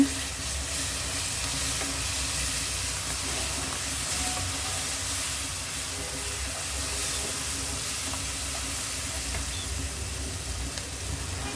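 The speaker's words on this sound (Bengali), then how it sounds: "পেঁয়াজটা হালকা ভেজে নেওয়ার পর রসুন বাটা দিয়ে দিলাম 1 চামচ। তেলের মধ্যে ভেজে নিব।" Garlic paste and onion frying in oil make a continuous, even sizzle and hiss up close, with light stirring and no talk.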